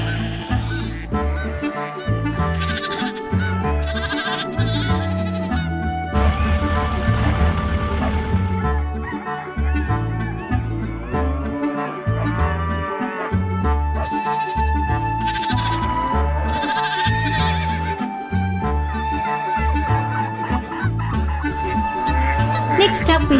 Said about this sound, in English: Now for the merino sheep.